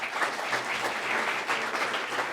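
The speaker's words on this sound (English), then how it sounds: "So big applause for the winners" Dense, continuous audience applause fills a hall to honour the winners of a startup pitch competition, a close, even roar of many hands clapping with no break.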